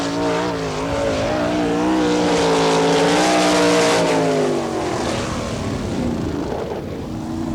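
An All Stars sprint race car lapping the Wichita track, its engine roaring loud and close as it sweeps past, the pitch swelling and then falling away.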